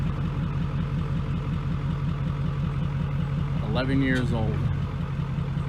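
Truck engine idling steadily while backing up, a low continuous rumble at moderate level, with a voice speaking briefly over it near the end.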